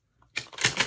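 A 44-card oracle deck gets a quick shuffle, a short burst of crisp card riffling that starts after a faint tap and runs close and clear, no voices.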